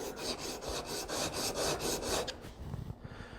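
A blade bevel is stroked across a sharpening stone in about nine even, rhythmic rasping passes, close and fairly loud, and the strokes fade out near the end with no talking.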